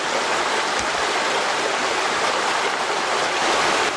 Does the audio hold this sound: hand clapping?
no